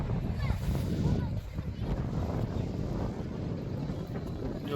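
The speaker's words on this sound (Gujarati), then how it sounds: "પેલું મસ્ત નાઇસ પવન એટલો મસ્ત આવે છે" Wind buffeting a microphone during a boat ride on open water, a continuous low rumbling roar with gusty swells, and a voice talking faintly underneath.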